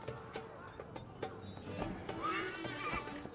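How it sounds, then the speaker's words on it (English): Horse in a video game whinnying and galloping, a quick series of hoof clops followed by a rising neigh, fairly faint in a quiet mix. "He's thrown off his horse."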